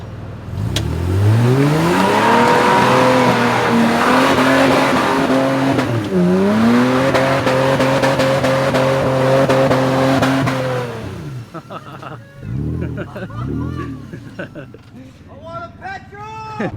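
A Nissan Patrol off-road is floored, its engine roaring loud and near with sustained high revs held against the limiter for several seconds, then easing off into lighter revving and shifting tones as people talk.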